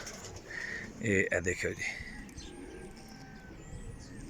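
Female Royal Teddy pigeons coo softly in a loft while someone speaks over them, and the cooing stays faint and low under his voice.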